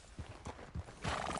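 A horse in a video game clip-clops along with steady hoofbeats and lets out a short neigh, all heard briefly at a moderate distance.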